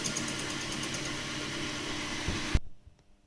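A metal lathe takes a light facing cut across the end of a workpiece, a steady mechanical hum with fine cutting hiss that ends in a sharp clunk and then falls quiet.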